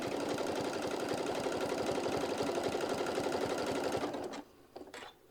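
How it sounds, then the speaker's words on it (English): A sewing machine stitches fabric in a steady, rapid, close mechanical whir of needle strokes that runs for about four seconds, stops, then gives a few faint clicks, with no talk. "If you wanted, you can go ahead and stitch across that raw edge."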